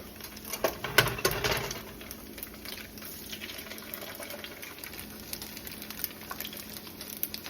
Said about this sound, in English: I'm going to get some of this oil over here to this side and go ahead and crack our eggs.